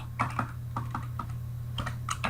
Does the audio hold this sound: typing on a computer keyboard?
yes